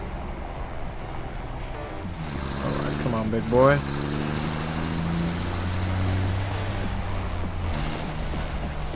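Heavy trucks in the factory game Satisfactory rumble and drive with a low engine drone, a short squeal of braking, and a hiss of air brakes, while someone speaks over them.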